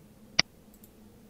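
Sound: computer mouse click on an icon

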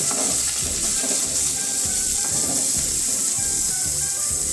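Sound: chopped onions frying with garlic in a pan

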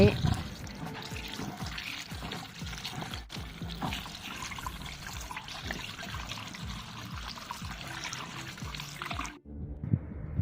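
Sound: rinsing canned rambutans in water

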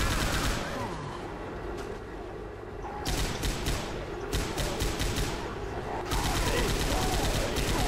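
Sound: gunfire in video game Left 4 Dead

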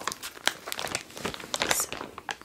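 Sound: plastic cover crinkling as it is removed from a new tote bag

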